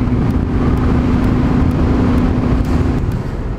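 Royal Enfield Thunderbird 500cc motorcycle cruising steadily along an open highway, a constant loud engine drone and rushing wind noise filling the whole stretch without letup.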